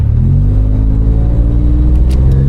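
A third-generation Toyota 4Runner without a supercharger accelerates hard from a standstill toward 60 mph, its engine droning loudly with a steadily rising pitch and a heavy rumble, no voices.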